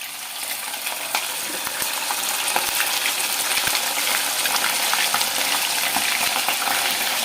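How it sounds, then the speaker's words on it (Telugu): Mutton pieces drop into hot peanut oil and fry with a dense, steady sizzle and scattered crackles and pops, close and continuous, without talk, while a mutton pickle is being made. "మనం కాగిన ఆయిల్లోకి మనం ఈ మటన్ని వేసేసుకుందాం"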